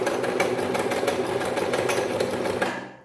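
A thirty-year-old, barely working sewing machine runs steadily through a zigzag stitch, its fast mechanical whir and clatter close and continuous before cutting off at the end.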